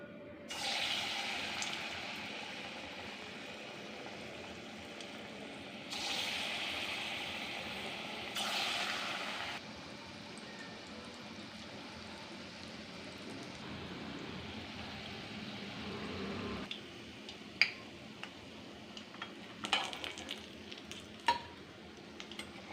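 Palm fruit fritters (taler bora) fry in hot oil with a soft, steady bubbling sizzle, swelling in a couple of louder bursts, then giving way to sharper scattered clinks and scrapes of a utensil near the end; no one speaks.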